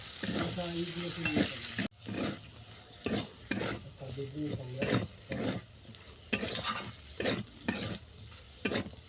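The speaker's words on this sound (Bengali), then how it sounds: "চিনির সঙ্গে সমস্ত উপকরণ ভালো করে মিশিয়ে নিচ্ছি" A fenugreek greens chorchori with sugar is stirred in a pan, making loud, rhythmic scraping strokes about once a second over a faint sizzle, with no talking.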